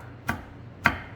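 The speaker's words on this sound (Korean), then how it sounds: "요것도 이렇게 층계처럼 놓으시고 썰어 보겠습니다." Two crisp knife strokes chopping food on a cutting board at a cooking school, evenly spaced, close and distinct against a quiet background.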